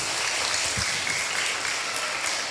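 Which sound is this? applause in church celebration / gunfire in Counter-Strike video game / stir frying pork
applause in church celebration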